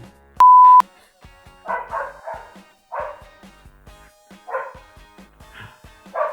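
A dog barks in short, sharp yips and bow-wows, about eight scattered barks over several seconds at moderate loudness. A brief electronic beep comes near the start.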